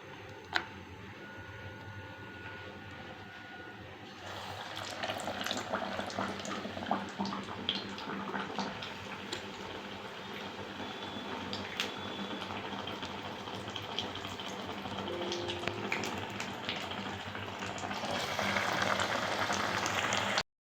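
Onion bhajis deep frying in hot oil, giving a steady bubbling hiss that swells slightly toward the end, moderately quiet and close, with no talk.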